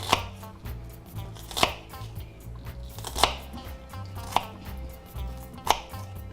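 A knife slices an onion thinly on a board for a squash salsa: about five crisp, evenly spaced cuts stand out sharply over a low, steady background.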